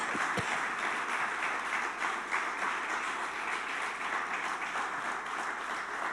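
A church congregation applauding, dense continuous clapping from many hands that holds steady and fills the room throughout, with no clear talking over it.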